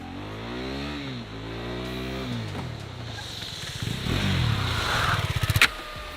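A KTM RC 390 motorcycle engine revs hard during wheelies and stoppies, rising and falling in pitch, then ending in a burst of rapid throttle blips, close and loud.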